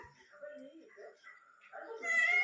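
A cat meows indoors at a household, soft cries at first that grow into a louder, drawn-out meow near the end, with someone talking around it.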